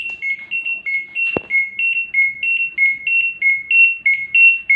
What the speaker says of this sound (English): wash and spin is beeping